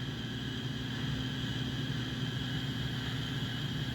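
An American Flyer Atlantic model steam locomotive sits idling at full power, giving a steady mechanical hum and whir with no talk over it.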